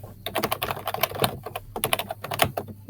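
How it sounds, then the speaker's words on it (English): Loud mechanical keyboard typing sounds close and continuous, a dense, rapid clatter of sharp key clicks with small pauses, heard alone without talk during an online tabletop game session. "With my new mechanical keyboard that I'm sure is very loud right now"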